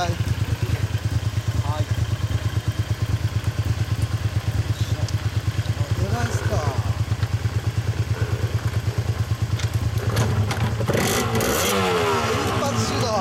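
A Yamaha TZR 125 two-stroke motorcycle engine runs at a steady close idle with dense rapid pulsing, then revs up in a few sharp bursts near the end while people chat briefly over it.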